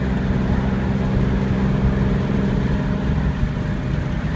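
A 1971 Porsche 911E engine pulling steadily in fourth gear on a test drive, a continuous broadband drone and road rumble heard from inside the car, loud and even with no speech.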